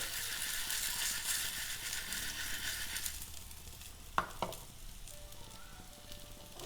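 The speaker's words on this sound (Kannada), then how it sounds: "ಹಾಕ್ಬಿಟ್ಟು ಲೈಟಾಗೆ ಫ್ರೈ ಮಾಡ್ಕೊಳ್ಳಿ" Grated coconut fries lightly in a pan with a soft, steady hiss that fades after about three seconds. A couple of sharp utensil clicks follow in the quieter stretch.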